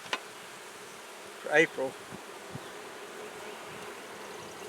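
Honeybees buzz inside a hive whose lone queen survived a spell of cold weather; a soft, steady hum sits low beneath a couple of brief louder bursts and a short spoken phrase.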